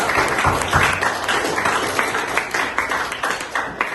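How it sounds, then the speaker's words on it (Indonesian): A classroom of students applauds for Dila, steady scattered hand clapping from a group lasting several seconds, fairly close and without talk. "Kasih aplaus untuk Dila."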